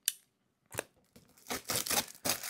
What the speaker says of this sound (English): I'm actually going to cut the tape this way on it